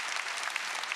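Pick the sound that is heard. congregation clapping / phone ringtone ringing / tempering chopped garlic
congregation clapping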